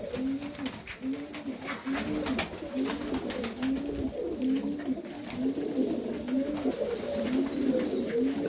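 Serbian Highflyer pigeons coo in a breeding loft, a steady run of soft, rhythmic throaty coos repeating close by, with faint chirps and rustling behind and no talk.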